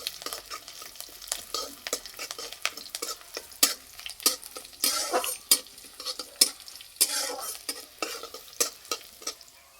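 Bay leaf, dried chili, five-spice, ginger and green chili fry in mustard oil in a kadai, a steady sizzle broken by repeated sharp scraping and stirring strokes that grow busier toward the end, close and clear with no voices.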